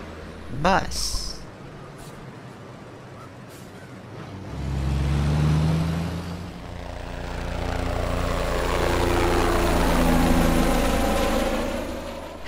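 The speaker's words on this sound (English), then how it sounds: "Bus." A bus engine idles with a low, steady rumble that swells in after a few seconds of quiet and holds a droning hum to the end.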